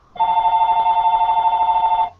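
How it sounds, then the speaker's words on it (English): A phone rings with a single steady electronic trill, loud and close, starting abruptly and cutting off after about two seconds. "Your phone's ringing."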